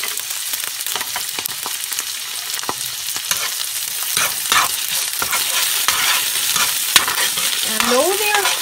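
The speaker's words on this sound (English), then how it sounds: "I'm just going to slightly brown them, the shrimp." Shrimp with chili sauce sizzles and fries steadily in a hot pan, with continuous loud crackling and occasional utensil stirring scrapes throughout, close and without talk.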